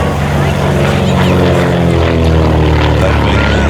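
An SF-260 piston aircraft's propeller engine drones steadily and loudly at an air festival, a continuous rich harmonic hum filling the whole stretch without a break.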